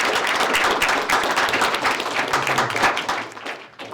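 A high school audience applauds an intern panelist, steady dense clapping from a room of people that tapers off toward the end.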